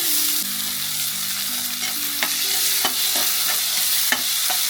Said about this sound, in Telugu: ఉల్లిగడ్డలు లేకపోతే ఎర్రగడ్డలు వేసుకొని కొద్దిగా దోరగా ఫ్రై చేసుకోవాలి